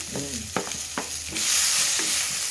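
Sweet corn, carrot and capsicum frying in oil, with a spoon stirring and scraping the pan several times before a steady, loud sizzle takes over.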